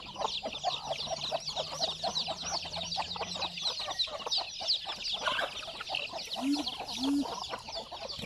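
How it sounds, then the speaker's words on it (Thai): Several chickens cluck and chatter continuously up close, a busy flock with overlapping calls and a couple of short rising squawks near the end. "ไก่แปดตัวนะครับ"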